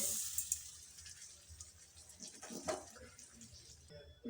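Water poured from a bowl into a pan to make sugar syrup, a soft, continuous splashing and trickle at close range, fairly quiet, with a louder clink at the very end.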